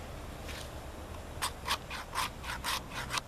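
A sharp 90-degree spine of a Mora Bushcraft Black knife scrapes shavings from a piece of fatwood, making a series of short, close rasping strokes in a quick rhythm after a quieter start.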